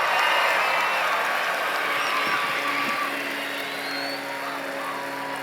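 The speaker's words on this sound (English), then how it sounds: "let's hear the loudest cheer that shakes this place up" A large crowd of graduates cheers and shouts loudly at a college commencement ceremony, a broad sustained roar that stays strong before easing slightly toward the end.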